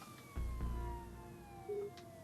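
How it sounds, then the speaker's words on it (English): Police sirens wail faintly in the distance inside the Jenny LeClue video game, thin falling tones drifting over a quiet background with a couple of soft low thumps. "Jenny could hear police sirens in the distance"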